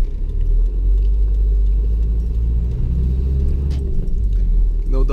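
Steady low rumble of a car driving along a road, engine and tyre noise constant and close from inside the cabin, with a brief rattle near the end.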